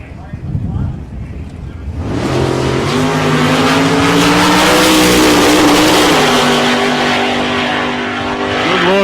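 A drag racing car launches hard down the strip at South Coast Raceway, its engine exploding into a loud, sustained roar that climbs through the gears, with an announcer talking over it.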